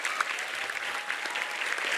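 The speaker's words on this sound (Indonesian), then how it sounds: "Tepuk tangan buat seluruh santri." Dense, steady applause from an audience honouring the santri at an Indonesian religious youth gathering, a broad wash of many hands clapping continuously throughout.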